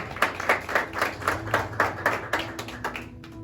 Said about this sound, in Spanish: Dale un aplauso al Señor y dale un aplauso al equipo.